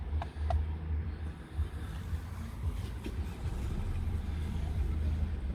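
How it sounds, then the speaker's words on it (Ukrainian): A Mercedes-Benz E-Class diesel engine idles with a steady low rumble, running evenly at close range with a faint tick now and then. "Зараз покажу як працює двигун."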